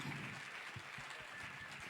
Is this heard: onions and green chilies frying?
no